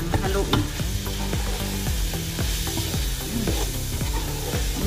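Lamb stew with black pepper and mixed spices stirred in a pan, a spoon scraping and clacking in quick repeated strokes over a loud, steady sizzle, close by with no voices.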